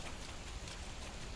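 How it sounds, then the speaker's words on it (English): Steady broadband rain hiss fills a wet area in the Monster Hunter video game, a dense, constant downpour with no talk over it. "God, this rain is up."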